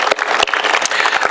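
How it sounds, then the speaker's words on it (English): Crowd applause at the Vista Field grand opening in 2022, a loud, close burst of many hands clapping with a few sharp individual claps standing out. "So a little bit of applause for my people."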